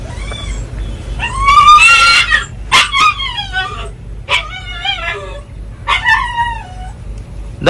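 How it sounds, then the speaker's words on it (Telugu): A puppy stuck in a canal cries in repeated high whimpering yelps, several bursts spaced a second or so apart, fairly close and loud over a low background hum. "ఇంటి ఎదురుగా వెళ్ళా నుంచి అరుస్తుంది కుక్క పిల్ల."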